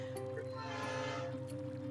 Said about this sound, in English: I'm going to mute my microphone and you talk because the train's coming past